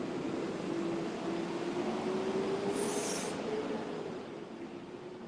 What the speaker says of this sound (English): I can't holler louder than the trash truck.